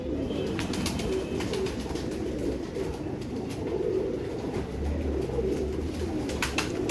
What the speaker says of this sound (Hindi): इमामदीन कबूतर